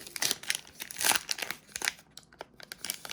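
A 2021 Topps Archive blaster card pack is torn open up close, with bursts of crinkling foil wrapper and ripping that come in quick handfuls, then thin out into sparser rustles.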